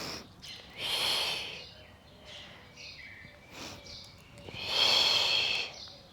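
Two long, airy exhalations, deep and close, with quieter breathing in between, during back exercises, with no talk.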